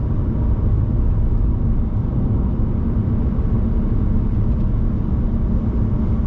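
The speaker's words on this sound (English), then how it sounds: "The vibration, you can feel the road, you can hear the road." A steady, loud low rumble of road and wind noise fills the cabin of a Chevy Spark, droning continuously without a break.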